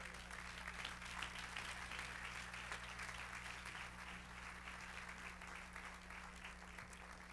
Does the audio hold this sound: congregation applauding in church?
yes